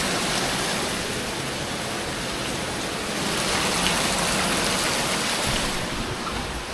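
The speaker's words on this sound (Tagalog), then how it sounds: "Walang tigil yung ulan." Heavy rain falls steadily during a flood at a house, a dense, continuous hiss of downpour on surfaces that swells slightly midway, with no voices.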